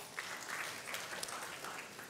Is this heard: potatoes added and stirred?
no